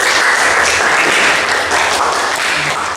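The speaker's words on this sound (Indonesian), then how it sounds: "Kita beri tepuk tangan untuk" A class of automotive engineering students claps for a correct answer about a fuel system, producing a brief, loud, close burst of steady group clapping throughout.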